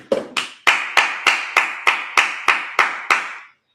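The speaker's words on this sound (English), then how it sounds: "Let's clap it up." A congregation at a Sabbath service claps in unison, about ten sharp, evenly spaced claps over a few seconds that stop together, loud and close with no talking.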